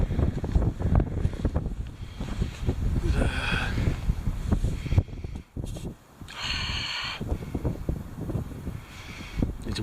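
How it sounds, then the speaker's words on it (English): Strong wind at a winter hammock campsite roars and buffets the microphone in loud, gusty waves, dropping briefly before surging again. "Oh, yeah, the wind picked up, man."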